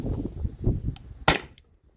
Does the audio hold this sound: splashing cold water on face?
no